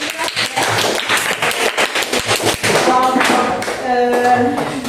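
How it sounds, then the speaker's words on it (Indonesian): Classroom applause after a group presentation: a burst of many hands clapping, dense and fairly loud for a few seconds, then fading into quieter room sounds. "Kami aplaus"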